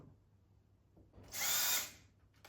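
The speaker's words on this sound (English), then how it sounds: "Make sure the drill's going the right way, not reverse." A power drill whirs for about a second as it drives a screw into a wooden canvas frame, a loud high-pitched burst rising and falling against quiet room noise.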